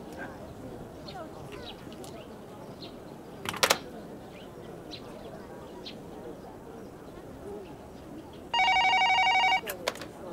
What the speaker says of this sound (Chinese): 我等小周电话呢。